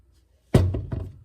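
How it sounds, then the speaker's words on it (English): Three quick metallic hammer blows ring out in succession after a moment of quiet, the first strike the heaviest, as wheel studs are hammered into a hub. "So now I just got to hammer in 4 more."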